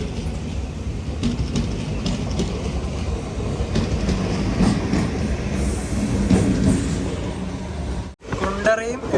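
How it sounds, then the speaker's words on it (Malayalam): The Madurai to Punalur Express sleeper train rumbles along with a steady rolling roar and faint rail clatter heard from inside the carriage, with a brief sharp dip near the end. "കോഴിക്കോടും കഴിഞ്ഞ് ട്രെയിൻ ആ കൊട്ടാരക്കര റെയിൽവേ സ്റ്റേഷനിലേക്ക് എത്തിയിരിക്കുകയാണ്"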